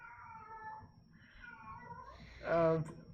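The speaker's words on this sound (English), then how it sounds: "Apologies in advance if anybody can hear my cat just singing the song of his" A house cat meows and yowls in a drawn-out, song-like way, starting faint in the background under a quiet voice and ending in one louder, closer wail.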